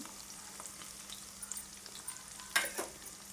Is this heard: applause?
no